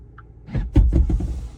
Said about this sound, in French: On peut rabattre l'appui-tête.